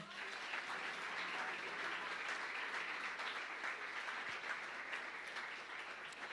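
Congregation at a church service applauding, a steady dense wash of clapping that holds at an even level throughout with no talk over it.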